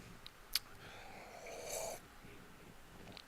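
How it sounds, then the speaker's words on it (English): A person clears their throat once in a short, faint, raspy rumble, with a few soft clicks before and after in a quiet room. "Allow me to clear my throat there."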